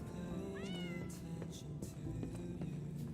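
A cat in a video game meows several times, short rising and falling calls close up over a constant bed of in-game music and low rumble.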